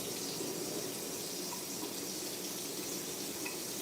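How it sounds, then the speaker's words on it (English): Water is poured into a cooking pan with a steady, loud, close rush that runs without a break and carries a faint sizzling hiss. "Add a little water over here."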